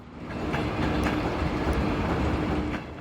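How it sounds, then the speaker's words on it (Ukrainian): Freight train wagons roll along steelworks railway tracks with a steady rumble and faint rhythmic wheel clacks, close and loud, swelling in and fading slightly at the end. "Просто нравится движение поездов"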